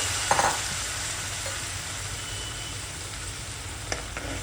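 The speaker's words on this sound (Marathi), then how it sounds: "आता आपण ह्याच्यामध्ये भाजी आपली सोडायची आहे" Colocasia leaf vegetable sizzles and is stirred in a pan of fried masala, a steady close frying hiss with a few light clinks of the spoon.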